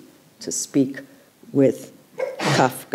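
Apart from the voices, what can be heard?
sneeze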